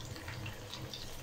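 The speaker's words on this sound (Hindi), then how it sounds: "हल्का सा पानी डालेंगे, ज़्यादा नहीं डालेंगे" Water runs steadily into a pot of black pepper chicken biryani, a soft continuous pour heard close but quiet, with no talking.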